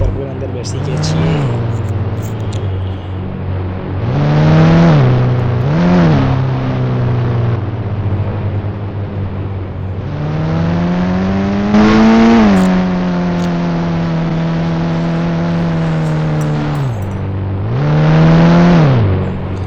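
Engine of a Scorpio driving in the Indian Bike Driving 3D video game, a loud synthetic drone that rises and falls in pitch through repeated revving swells and gear changes, steady throughout with no talking over it.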